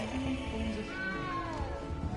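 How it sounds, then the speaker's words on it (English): A small cat meows in the Hogwarts Legacy video game, giving a couple of short, faint cries over a soft ambient background. "You don't need to be frightened, little cat."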